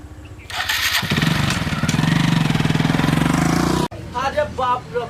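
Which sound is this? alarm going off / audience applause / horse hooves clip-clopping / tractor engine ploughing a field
tractor engine ploughing a field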